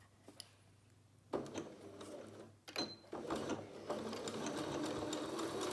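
Sewing machine stitching a zip, starting up after a few clicks and running in steady rapid bursts that settle into continuous close mechanical whirring, no talking.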